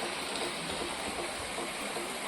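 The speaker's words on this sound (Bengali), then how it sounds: "ভালোই জোরে বৃষ্টি হচ্ছে।" Steady rainfall hisses outdoors beside a small backyard fish pond, a soft, even wash of noise at moderate distance with no voices.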